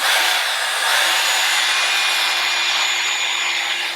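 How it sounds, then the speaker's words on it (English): A hair dryer blows steadily with a loud, close, continuous airy roar and a faint whine, no pauses. "I'm gonna blow dry my hair."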